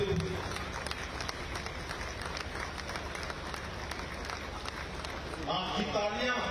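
An audience applauds at an Independence Day honouring ceremony with the Chief Minister, where a martyr's widow is felicitated; steady clapping runs throughout, with a brief voice near the end.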